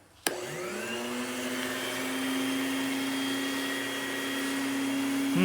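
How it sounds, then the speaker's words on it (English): A shop vac switches on with a sharp click and spins up into a steady, loud whining roar that holds unchanged for several seconds, close by with no talking. "Now, what do you have to do when you do a shop vac? You got to get it, you got to plug it in, you got to turn it on."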